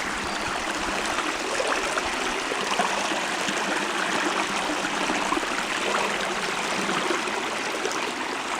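A forest stream flows steadily and close by, with an even broadband wash of running water that holds constant throughout, and no talking is heard.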